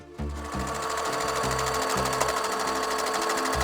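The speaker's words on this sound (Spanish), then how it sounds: "Y vamos a coser por abajo y por un lado," Sewing machine stitching thin bag lining fabric, a steady fast mechanical whir and needle chatter running continuously and close, with a brief start and slight speed changes.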